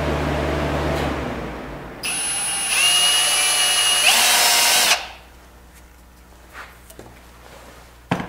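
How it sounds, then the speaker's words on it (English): A power drill whines loudly and steadily for a few seconds, its pitch shifting slightly as it bites through the metal of a Kubota BX tractor, then stops, leaving quiet room noise. "Don't you just love drilling holes in your tractor,"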